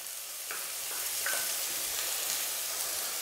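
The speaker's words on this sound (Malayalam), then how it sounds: "ഇതെല്ലാം ചേർത്ത് നന്നായിട്ട് നമുക്ക് വഴറ്റിയെടുക്കാം" Shallots and curry leaves sauté in a pan for Kerala egg theeyal, giving a steady soft sizzle with faint scraping stirs, moderately close and continuous.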